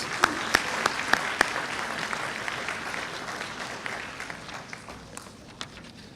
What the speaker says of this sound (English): A huge applause for these young entrepreneurs